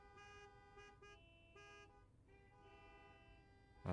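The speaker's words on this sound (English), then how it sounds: "car horn." A car horn honks repeatedly in a visual novel game, several short blaring toots in a rough rhythm over a low traffic rumble, then one louder burst at the end.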